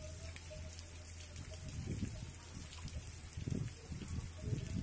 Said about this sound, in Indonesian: Lumayan hujannya, hujan sangat lebat sekali ini.